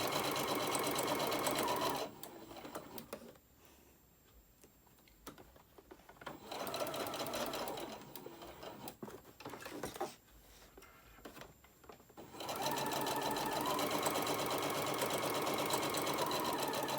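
A sewing machine stitching fabric around a seam allowance, its steady motorized whir running close and continuous, pausing twice in the middle before resuming at full speed.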